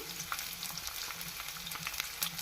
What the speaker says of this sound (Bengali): এই মশলাগুলো খুব ভালোভাবে একটু ভেজে নিব